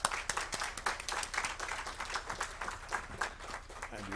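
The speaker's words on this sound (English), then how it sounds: "yeah, you can clap." Audience members at a university mentorship forum clap as the event closes, a dense, uneven patter of hand claps that carries on continuously at moderate loudness.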